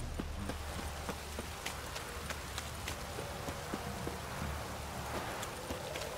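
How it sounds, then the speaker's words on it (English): Steady rain pours down in a rainy scene in The Witcher 3: Wild Hunt, a dense, continuous patter with scattered sharper drops, heard alone at moderate level with no talk. "This downpour's a bastard,"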